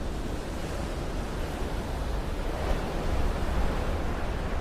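Ocean waves at Waikiki roll in a constant loud wash of surf, with wind rumble against the microphone and no voices.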